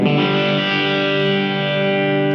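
Electric guitar, a Telecaster, played through an OCD overdrive pedal, a single loud sustained chord ringing out with a gritty but clear overdriven tone that slowly fades.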